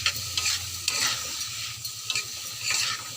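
Sattu stirred in a pan with turmeric, green chili, oil and salt: close scraping and stirring strokes over a soft sizzle, in an irregular rhythm with no talking.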